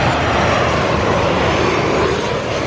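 A low-flying airplane passes close overhead beside LAX airport, a loud, steady engine roar filling the whole clip without pause.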